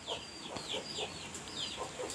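Chickens clucking softly in a home setting, a faint steady series of short repeated clucks at a moderate distance under background noise.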